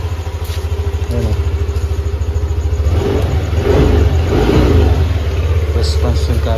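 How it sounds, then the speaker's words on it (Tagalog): Yamaha Aerox scooter engine running on Zic oil, idling with a steady low pulse and then revved up in a smooth rise, heard up close with a quiet, even tone and no talk over it. "pag nirev mo tahimik pa rin yung lagislis ng makina"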